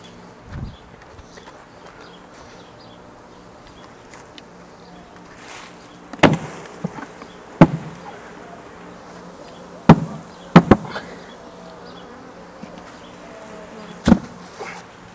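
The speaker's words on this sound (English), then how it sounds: "it's a lot of bees" A swarm of honey bees buzzes faintly inside a bird house in McAllen, Texas, a low steady hum broken by a few sharp knocks and bumps nearby.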